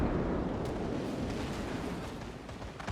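Naval cruiser guns in World of Warships fire armor-piercing shells in a dense, continuous rumble of overlapping booms, loud and sustained, with a few sharper reports poking through the roar of battle.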